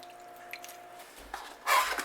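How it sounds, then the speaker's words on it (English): A brief, quiet splash as lemon juice is poured into a pan of whipping cream, after a moment of faint kitchen stillness. "You want to add your lemon juice."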